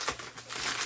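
Short crinkling and rustling as packaging from a mailed package holding a breakable jar is pulled open, a close, brief burst of papery crackle.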